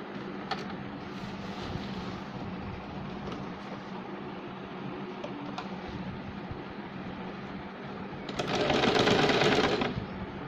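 A sewing machine runs a straight stitch along a folded edge of a baby girl's shirt, a steady low mechanical whir that continues throughout and swells louder and brighter near the end.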